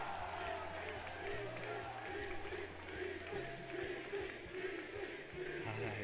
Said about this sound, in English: A lot of BC chants out in the crowd.